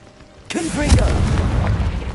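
A Confringo fire-blast spell goes off in Hogwarts Legacy, a sudden loud burst followed by a sustained roaring rumble, with a voice speaking over it.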